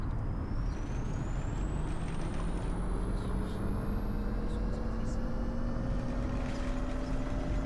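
A Mercedes eCitaro electric bus in The Bus game gives a steady airy hiss from its air brakes, with a rising electric motor whine over a constant low rumble, continuous and fairly loud.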